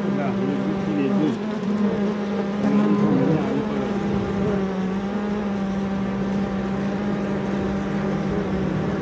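A swarm of honeybees buzzes densely at the hive, a continuous close hum that stays steady and loud throughout with no voices.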